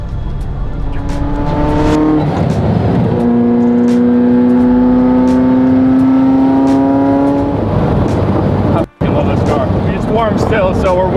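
A Ferrari F40's engine revs up and down repeatedly, its loud, rising tones ringing close by, with a brief cut near the end.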